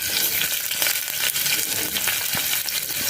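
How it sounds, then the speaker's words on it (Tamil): Chopped onion, a bay leaf and whole spices like cinnamon, cloves and cardamom fry in hot oil for a millet vegetable biryani, a steady close sizzle with faint stirring clicks and no voices. "ஒரு பிரியாணி இலை, ஒரு வெங்காயம் பொடியாக கட் பண்ணி ஆட் பண்ணிக்கோங்க."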